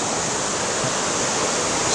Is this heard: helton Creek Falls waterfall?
yes